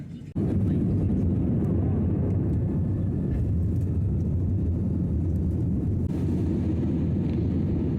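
Loud, constant low roar of airplane cabin noise in flight, a steady engine drone that fills the whole stretch without pause.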